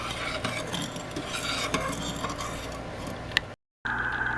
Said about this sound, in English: once it's boiling, I want it to boil for about 8 to 10 minutes or until it's getting thick